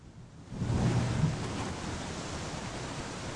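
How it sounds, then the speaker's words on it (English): Rumbling thunder from a storm in the supermarket game Cafemart Simulator, a low roll swelling up after a quiet start and then fading into a steady hiss of rain-like noise. "We've had quite a few flashes of lightning and quite a lot of thunder"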